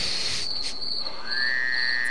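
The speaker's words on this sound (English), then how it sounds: "the crickets are so goddamn loud they can't hear me." Crickets in the video game The WarZ, a loud, continuous high-pitched chirping drone that holds steadily, with a second rising whistle-like tone joining partway through and no speech.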